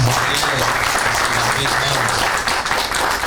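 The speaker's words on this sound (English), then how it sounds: "Let's clap for him." Audience applause fills a hall at a theological forum, a dense steady wash of many hands clapping at close range, with a low hum beneath and some voices mixed in.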